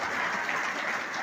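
An audience at a Hindi comedy performance claps steadily, a short dense burst of many hands with no voices over it.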